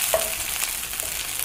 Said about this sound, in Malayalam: ചെറിയുള്ളിയും കറിവേപ്പിലയും കൂടെ നമുക്കൊന്ന് വറുത്തിട്ട് കൊടുക്കാം.